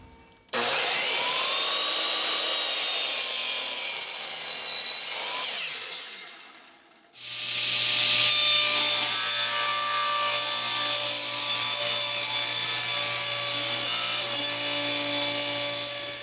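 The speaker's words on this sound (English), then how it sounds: "we can go ahead and trim this piece up closer to final dimension." A wooden piece is trimmed toward final dimension for a wall robe hook project, a steady loud sawing sound that runs for about five seconds, pauses briefly, then resumes continuously to the end, with no talking.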